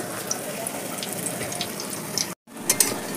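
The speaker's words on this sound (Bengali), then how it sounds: "এইভাবেই সবকটা আস্তে আস্তে ভেজে নেব" Eggplant fritters in batter frying in hot oil, a close, steady bubbling sizzle with a brief cut near the end, then the crackle resumes.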